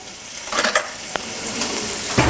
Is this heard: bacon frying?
yes